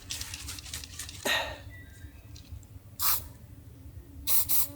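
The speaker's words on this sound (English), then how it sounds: "Let me spray myself a little more." Mosquito repellent sprays from an aerosol can on a night camping trip in a forest, three short hissing bursts, the last one doubled, close to the microphone over a quiet low background hum.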